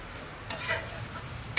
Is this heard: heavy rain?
no